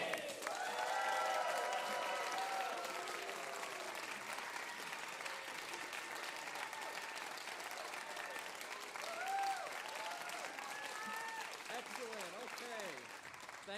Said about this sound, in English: give these kids a big round of applause